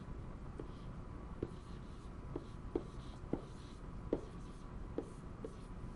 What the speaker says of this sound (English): So the first thing we need to do is write the balanced equation.